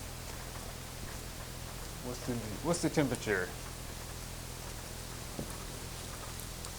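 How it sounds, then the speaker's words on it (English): Steady rain hisses softly in the background at a cabin camp, with a brief spoken question partway through. "if it's raining like this, we won't do that"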